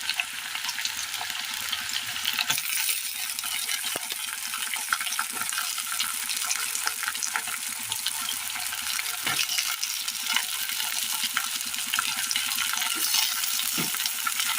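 Eggplant pieces coated with turmeric and salt fry in a pan with a constant close sizzle, broken by the scrape of stirring. No voices are heard.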